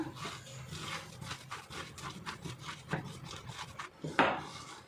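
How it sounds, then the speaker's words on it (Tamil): Lentil vada dough with spinach, curry leaves and coriander is squeezed and mixed by hand in a bowl, making a run of close, rhythmic rubbing and squishing strokes that end in one sharper scrape. "இப்போ இதை நல்லா வந்து நம்ம பிசைஞ்சுக்கலாம்"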